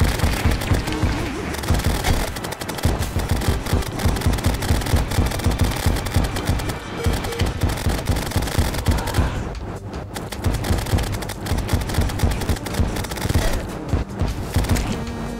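Rapid gunfire from a player's weapon in Terraria with the Calamity mod during a boss fight against The Perforators, dense continuous bursts of shots with brief pauses, loud and up close.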